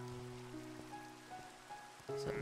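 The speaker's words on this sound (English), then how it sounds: "Oh, it's raining." Rain falling in the Minecraft video game, a steady hiss of rain on surfaces running under sustained game music tones, with no talking.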